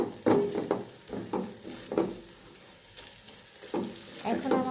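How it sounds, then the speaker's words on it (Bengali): Noodles with an egg being stirred in a frying pan, with repeated scraping strokes of the utensil over a soft, continuous sizzle, close and fairly quiet. "সুন্দরভাবে নেড়ে চেড়ে দিব, একদম সুন্দর করে হালকা হাতে নাড়তে হবে।"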